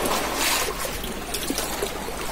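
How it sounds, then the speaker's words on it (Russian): Sea water at Sharm el-Sheikh laps and splashes against the shore, a steady close wash of trickling and sloshing with small splashes and no voices. "Шумит вода, хлюпает волны."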